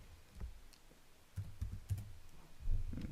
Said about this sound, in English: So I'm going to type that here.